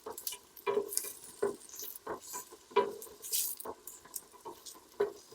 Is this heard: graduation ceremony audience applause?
no